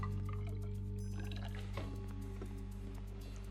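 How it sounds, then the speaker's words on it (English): Hydrogen peroxide pours into water for glowstick mixing, a soft liquid splashing and trickling close by under a loud steady low hum. "Then you're going to want to pour in the hydrogen peroxide so you can dilute it."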